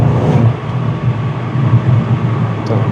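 A Volkswagen Golf 8 GTI Clubsport exhaust rumbling under acceleration on a road, a loud close engine drone with irregular low pops and crackles running through it.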